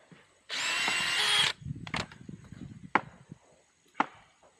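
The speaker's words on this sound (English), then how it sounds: "so I'll drill a hole right here." A power drill bores a hole into a tire during a makeshift tire repair, with one loud, steady whine lasting about a second, followed by scattered knocks and several sharp clacks.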